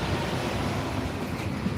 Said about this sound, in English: Great looking locomotive.